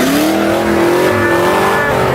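A Nissan 240SX revs hard while roasting its tires, a loud, close engine note climbing steadily in pitch with a rising whine and gritty tire squeal underneath, continuous throughout.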